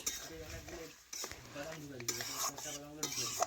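Mutton curry is stirred in a pot, with metal utensil scrapes and clinks against the vessel over a soft sizzle, while a voice talks in the background.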